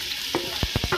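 Three medium onions frying in a mix of oil and ghee, a steady hiss with a few brief stirring clacks, close and moderately loud.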